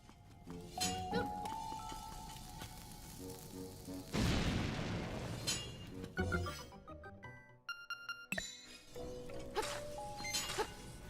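A bomb goes off in a video game, a broad burst in the middle of a busy stretch of game music and chiming effects, with smaller clinking effects after it.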